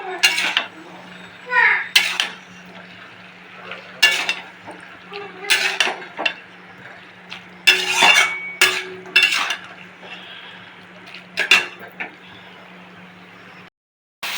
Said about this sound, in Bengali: আর একটু কিন্তু কষিয়ে নিতে হবে